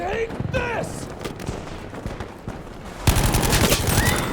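Dense gunfire rattles in Battlefield V, with sustained automatic bursts and overlapping shots, loud and close, especially in a heavy fusillade toward the end, alongside other game effects.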